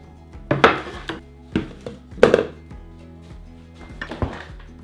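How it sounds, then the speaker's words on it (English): A knife chops vegetables on a board for a lemon ginger juice, with a few sharp, close, separate thunks and clacks at uneven intervals amid quiet kitchen background. "I'm gonna cut this up"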